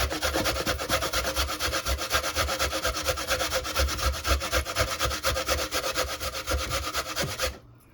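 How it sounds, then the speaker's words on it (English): Fresh coconut is grated by hand on a grater in a home kitchen, a steady, continuous rhythmic scraping that stays close and loud for the whole stretch. "So I'm going to continue grate all the coconut."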